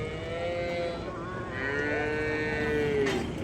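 Cattle at a native cow market in Mattapalli, Tirupattur district, give loud, sustained moos close by, with drawn-out lowing calls over a busy market hubbub.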